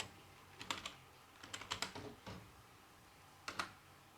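Computer keyboard typing while renaming a spreadsheet table: quiet, close clusters of clicky keystrokes in a few short bursts separated by pauses, no voice.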